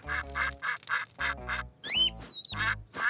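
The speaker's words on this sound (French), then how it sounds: "Oh, les canards sont de retour." Cartoon ducks quack in a quick run of loud, close, nasal calls, several in a row with short gaps, followed by a brief whistling squeak.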